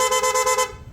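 A PIA horn on a Bristol ATR160 motorcycle honks in rapid mode, five or six quick, evenly pulsed bright toots in under a second before cutting off, loud and close.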